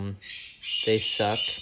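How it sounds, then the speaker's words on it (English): Pet birds squawk in loud, harsh bursts at close range, several calls in a row over about two seconds, overlapping a person speaking. "I apologize for my birds."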